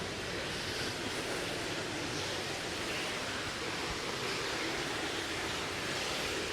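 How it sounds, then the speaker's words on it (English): Water flows steadily inside a warm botanical garden glasshouse in Sheffield, a broad, even rushing hiss like a small cascade or fountain, constant and fairly close with no voices. "I can hear water."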